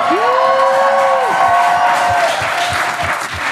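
Audience applause and cheering at the end of a live show: a loud, steady wash of clapping throughout, with a high whistle-like whoop early on and the clapping thinning slightly toward the end.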